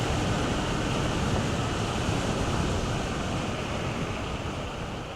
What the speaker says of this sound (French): Il y a un petit vent qui est pas piqué des hannetons.